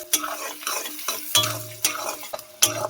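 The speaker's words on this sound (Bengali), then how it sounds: "দিয়ে এটা ভালো করে লাল লাল করে ভেজে নেব" Whole spices such as cardamom, cloves and sweet wood fry in hot oil for a chicken and elephant-foot yam curry, with a steady sizzle broken by several sharp scrapes and clinks of a spoon stirring the pan.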